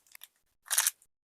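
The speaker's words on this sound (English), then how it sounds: "There's a small amount of crunch due to very small pieces of hazelnut." A bite into a Roses Hazel Wow, plain chocolate studded with tiny hazelnut pieces, gives one short crunchy crack after a few faint small clicks, close and brief with no talking.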